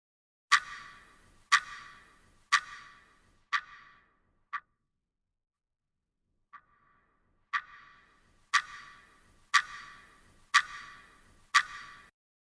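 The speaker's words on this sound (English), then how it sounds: "using it to emit the clock sound" A ticking clock placed as an ambient sound source in a Unity game demo built with Wwise: sharp, evenly spaced ticks about once per second, with a short gap midway where the ticks fade, then return loud and close.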